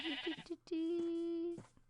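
A sheep in the Minecraft video game bleats in quick short calls, then lets out one long, steady, drawn-out bleat, close and clear with nothing else heard.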